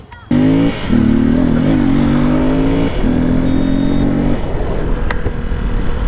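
A KTM XPulse 234 motorcycle fitted with a big bore kit revs up close by, its engine note rising and holding under load before easing off.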